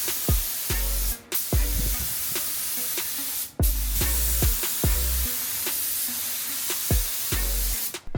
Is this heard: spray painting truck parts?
yes